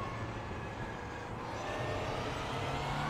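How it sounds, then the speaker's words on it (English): Steady low engine rumble of an Audi R18 LMP1 race car idling continuously in a video game, with a faint high whine on top; no talking. "when she's idling, it sounds like a truck"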